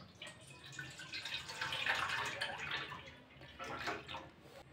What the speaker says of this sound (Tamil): 1 லிட்டர் பால் எடுத்திருக்கேன். உள்ளே சேர்த்துக்கிறேன்.